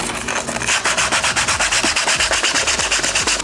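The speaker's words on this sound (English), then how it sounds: "sandpaper and just like scuff it, like just clean up all these edges, make sure they're not sharp like this" Sandpaper scuffs rapidly back and forth over the sharp edges of a Celica GT-S sport pedal for a Corolla XRS, a steady, close rasping rub at an even rhythm with no talking.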